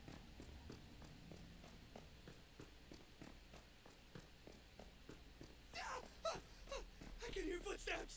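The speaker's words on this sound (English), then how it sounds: "I can hear footsteps." Footsteps in the horror video game The Evil Within tap along steadily and faintly under a murky ambient drone, growing into louder, busier scuffing near the end.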